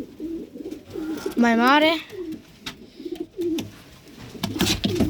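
Pigeons, including a chick and a male, coo in a breeder's loft, a rolling warbling coo standing out near the middle, with softer bird sounds and someone talking nearby.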